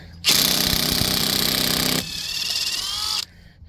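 A Ridgid 1/2 inch impact wrench hammers on a lug nut of a one-ton Ford F350 truck, two loud, close bursts of rapid rattling impacts, the first about two seconds long and the second slightly softer, then it stops.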